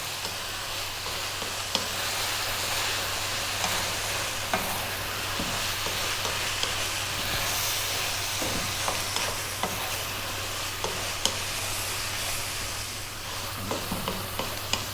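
Spicy butter prawns fry in butter and sesame oil with a dense, constant sizzle and hiss, broken by scattered soft stirring clicks, with no talking.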